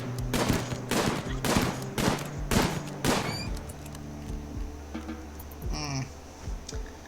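Gunfire in RimWorld, where a colonist shoots at a bunny: a quick series of about six evenly spaced sharp shots at close range, followed by quieter game sounds and a soft chime.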